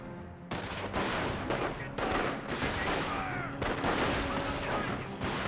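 Sustained gunfire from squads in Company of Heroes, a World War II real-time strategy game, with dense overlapping rifle and machine-gun bursts rattling continuously throughout, loud and busy with little pause.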